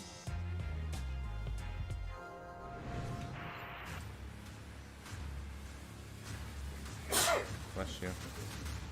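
A short, sharp sneeze bursts out over a gaming-show stream, with a voice talking through the rest of the clip and background audio playing underneath.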